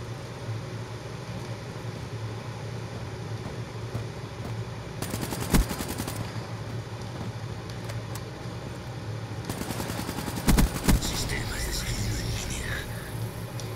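Faint, distant automatic gunfire in Call of Duty Black Ops III, with two short clusters of rapid shots over a steady low background hum and quiet murmuring.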